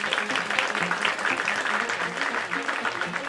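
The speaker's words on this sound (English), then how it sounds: "clap your hands so Tink can hear you" A group claps hands together at a children's storytime performance, a dense, continuous crowd applause that stays strong throughout with voices mixed underneath.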